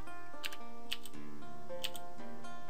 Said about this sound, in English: I apologize for the loudness of the keyboard